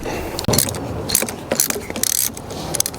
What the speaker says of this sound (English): So it's just a Allen wrench over here, Allen over here. You loosen it up